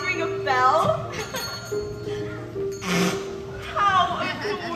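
A hand bell rung by a bell ringer during a school Christmas stage show, bright ringing tones repeating in a few short bursts between actors' spoken lines.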